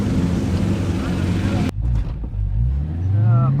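An autocross car with an LS7 V8 engine revs loudly at the launch line, then the note cuts out abruptly as it bogs on the start before the engine pulls back up, close and loud, with people speaking over it.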